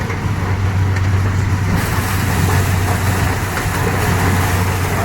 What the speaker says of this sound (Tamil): வண்டி ஓடிக்கிட்டு இருக்குது நம்ம வண்டி தான்